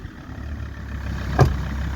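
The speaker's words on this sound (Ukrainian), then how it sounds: "А дерчить як чуєш, як наче цей катерпілер, чуєш?" An old diesel engine with 400,000 km on it idles steadily with a low, rough rattle, a brief louder knock partway through, no voices.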